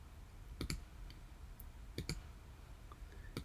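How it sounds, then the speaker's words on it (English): Sharp computer mouse clicks in Photoshop, a quick double click near the start, another pair around two seconds and a final click, close and crisp against a quiet room hum. "If you click with the mouse"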